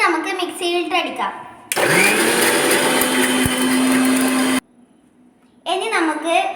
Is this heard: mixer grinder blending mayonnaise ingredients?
yes